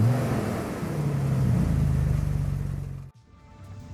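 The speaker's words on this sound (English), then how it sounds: "now we've got Jackson in his built 89 Toyota" A built 1989 Toyota off-road truck on 37-inch tires drives past, its engine revving and rising in a loud, close roar that holds, then cuts off abruptly near the end, leaving quiet.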